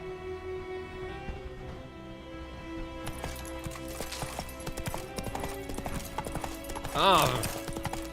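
Horse hooves clip-clopping in Witcher 3, steady hoofbeats under game music with a brief whinny near the end; someone speaks over it.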